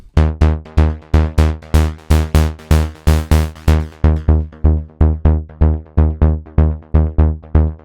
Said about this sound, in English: Bass energetic is really nice to use as a top bass and sounds like this